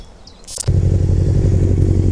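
A Yamaha FZR600R sport motorcycle engine catches with a sharp burst and settles into a loud, close, steady idle with a throbbing low tone.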